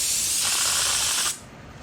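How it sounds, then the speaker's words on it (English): Small paint spray gun spraying black automotive paint, a loud close hiss that holds steady for over a second and then cuts off abruptly, leaving faint background noise. "we got our little spray gun used for fixing small repairs"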